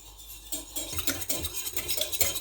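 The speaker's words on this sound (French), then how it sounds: "On va venir fouetter tout ça et puis voilà." A whisk beats milk batter for Finnish tippaleipä, May Day fritters, in a bowl: close, steady scraping and clinking strokes repeating in a quick rhythm with no voices.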